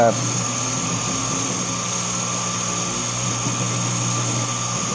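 A Sherline lathe cuts aluminum at high speed with a high-speed steel bit, giving a loud, steady whine with constant tonal hum and hiss that holds evenly throughout, with no pauses.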